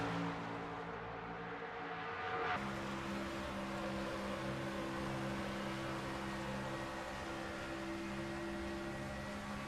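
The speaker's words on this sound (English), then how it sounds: "you can listen to the accelerators backing off and squeezing it on as they come through the second half of the turn 2" NASCAR race cars in a sim racing game at Texas Motor Speedway drone steadily with layered engine tones, lifting off and accelerating, the pitch shifting sharply about a third of the way in and then holding a sustained roar.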